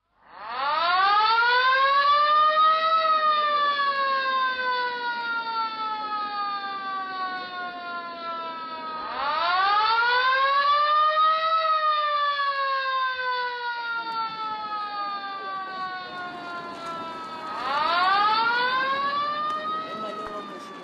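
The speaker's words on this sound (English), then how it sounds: "The siren that signals shift changes on the mines." A mine siren sounding for a shift change gives three long wailing cycles. Each one climbs in pitch, holds loud and steady for several seconds, then slides slowly down before the next blast starts.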